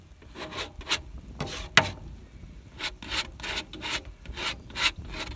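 A brush or knife mixes paint on a palette outdoors, with short scraping and rubbing strokes repeated irregularly, close and fairly soft.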